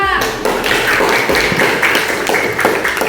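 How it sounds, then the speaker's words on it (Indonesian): A classroom of students claps for a group after its presentation, a dense patter of hand claps that runs steadily and fairly loud for a few seconds, with some voices mixed in. "Beri aplaus untuk kelompok 2."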